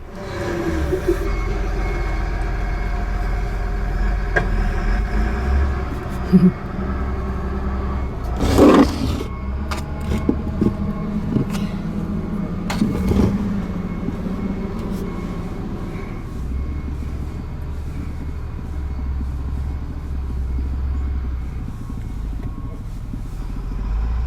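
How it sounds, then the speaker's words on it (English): A big loader working near a dump truck, filling it with bucket loads of wood chip mulch: a steady engine rumble with reversing beeps, several sharp clunks and thuds from the load going in, and no talk. "there's a big loader over there and he's filling up that dump truck"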